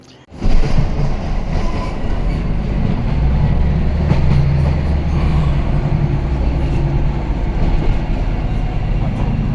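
A train rumbles steadily with a deep, continuous rolling roar and faint clatter, loud and close, as if riding aboard, in England heading to Middlesbrough railway station.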